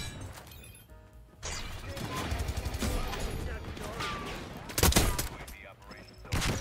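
Rapid gunfire from a weapon in Black Ops 6 rattles in dense bursts, with sharp cracks and crashing impacts, one strong blast near the end, and busy game noise underneath.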